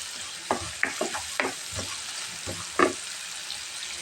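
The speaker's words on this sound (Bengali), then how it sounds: "পেস্টটা ভাজা হয়ে গেছে" Spice paste sizzling in a hot pan while a spoon stirs and scrapes it, with a few louder scraping strokes over a constant frying hiss.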